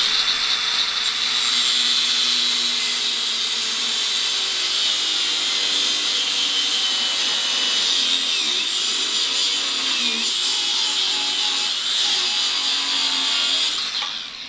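Power saw cutting through an aluminium brake lever on a 190cc shifter kart, a steady, loud, high-pitched whine that keeps going without a break for the whole cut.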